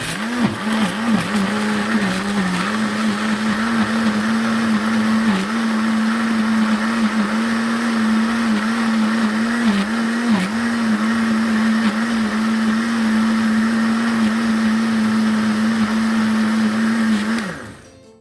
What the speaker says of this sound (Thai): เราจะปั่นให้ใบยูคาละเอียดที่สุดเลยนะครับ เพื่อดึงน้ำมันหอมระเหยให้ออกมาจำนวนมากเลยครับ